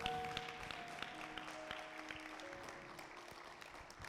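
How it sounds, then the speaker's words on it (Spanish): Congregation applauding the Lord during a church service, steady faint clapping with sustained musical tones behind it and no talking. "Dale un aplauso al Señor"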